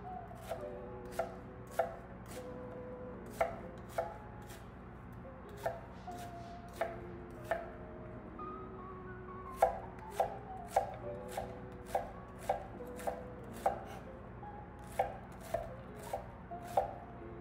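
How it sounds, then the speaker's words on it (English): Onions for White Castle-style burgers are chopped on a board, a knife tapping in a steady rhythm of crisp, close knocks, sometimes in quick pairs, with short pauses between runs in a quiet kitchen. "I'm gonna cut the onions for the burgers"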